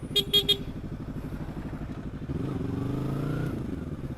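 Yamaha R25 motorcycle engine idling with a steady low rumble, then revving up in a rising, louder surge; a few quick horn-like high beeps sound near the start.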